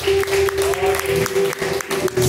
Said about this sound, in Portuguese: E as palmas bem alegres para Jesus.